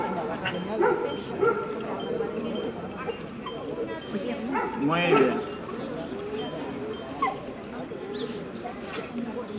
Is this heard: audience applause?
no